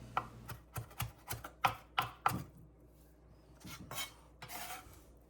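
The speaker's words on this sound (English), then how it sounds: "a big handful of fresh basil leaves that I'm going to stack up here and then really roughly chop" A knife chops roughly through a stacked handful of fresh basil leaves on a cutting board, giving about seven sharp, close knocks in an uneven rhythm, followed by softer scraping and shuffling of the leaves.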